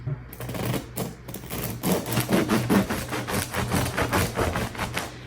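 A knife saws through a rustic sourdough loaf with a steady, crackly rasping of crust, rough back-and-forth strokes close up and moderately loud.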